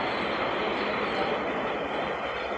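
A Vale Vitória–Minas passenger train waits at the station before boarding, filling the air with a steady, loud broadband rumble and hiss that holds evenly throughout, with no talking.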